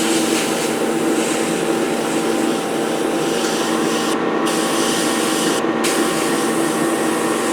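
Aerosol spray of grip primer being applied to a 1/72 Hobby Master Bedford QL refueler model truck, a steady close hiss running continuously with two brief pauses near the end, no talking.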